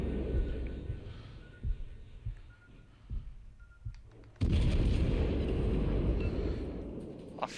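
World of Warships Legends Des Moines cruiser firing an armor-piercing salvo from its front turrets: quiet low rumble with scattered thuds, then a sudden loud, sustained booming roar that holds and slowly fades.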